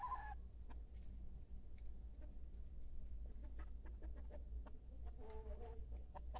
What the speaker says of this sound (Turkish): Bu da tavuk gibi gıdaklıyor.